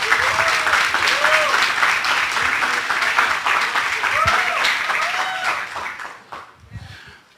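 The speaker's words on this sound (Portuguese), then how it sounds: "Por favor, uma salva de palmas." Audience applause at an international theology seminar panel, a full burst of many people clapping with voices mixed in, gradually tapering off to near silence.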